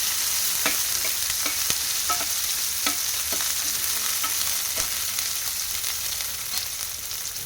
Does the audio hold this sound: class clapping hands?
no